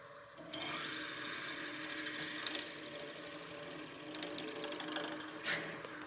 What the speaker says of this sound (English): you can hear as the bit was going through the blank